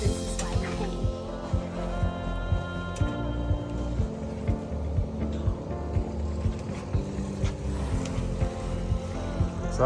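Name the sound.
fishing boat engine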